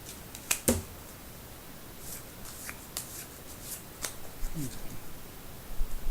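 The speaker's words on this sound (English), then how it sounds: "just a little overhand shuffle. Go a little slower so you can see I am peeling these cards off" Soft riffling and slapping of a deck of playing cards being overhand shuffled by hand, cards peeled off slowly, a few sharp card snaps among quieter peeling sounds, close up.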